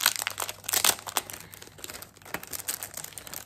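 Craft paper being cut into shapes by hand, with close crinkling, snipping and rustling in irregular bursts, louder at the start and continuing more lightly.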